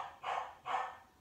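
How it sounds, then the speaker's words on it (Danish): A pet dog barks indoors, two or three close, loud barks in quick succession with nobody talking. "Og så beklager jeg lige min hund, der larmer."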